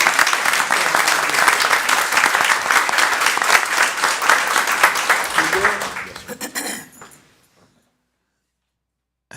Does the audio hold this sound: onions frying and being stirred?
no